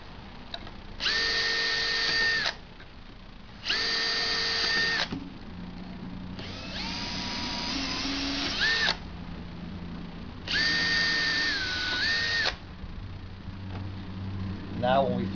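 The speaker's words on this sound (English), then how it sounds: "you can see that we've successfully pilot drilled them all" A power drill with a number 40 bit pilot-drills holes in a split nosebowl for a two-seat aircraft, giving four separate high-pitched whining bursts of about one to two seconds each, close and loud, over low background noise.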